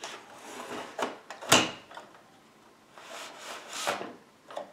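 Flat screwdriver prying plastic clips off an Xbox 360 Slim casing, giving scattered clicks and scraping rubs, one sharp snap near the middle and softer plastic creaks after it, close and fairly quiet with no talk.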